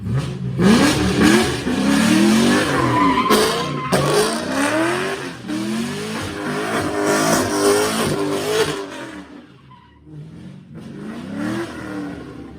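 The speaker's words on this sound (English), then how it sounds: "he pulled his car up, started it up for the daily donut." Polaris RZR Turbo S doing donuts, its turbo engine revving hard in repeated rising sweeps with tires skidding, loud and close, easing off briefly near the end before revving again.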